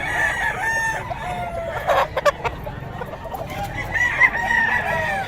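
Sweater gamefowl chickens cluck and crow loudly and close by, with repeated calls overlapping through the stretch and a few sharp louder bursts near the middle.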